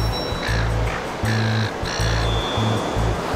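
Surf rolls in at a sandy beach as a steady wash of noise, while a run of loud, honking, quack-like bird calls repeats in short bursts over it.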